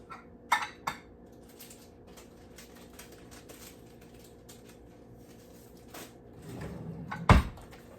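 A burger press being grabbed in a home kitchen while making lamb burgers: a few sharp clatters near the start, a quiet stretch, then a louder knock and rattle near the end, with no talking.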